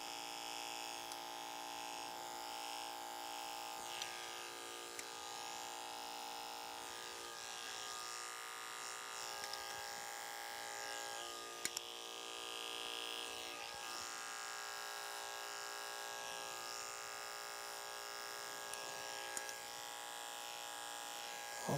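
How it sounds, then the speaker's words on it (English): Electric hair clippers buzz steadily and close up in a high-pitched, even drone as they cut a classic pompadour. Faint snips and ticks come through where the blades work through the hair. "we're going to turn the clipper upside down so the clipper is still working properly and go straight down"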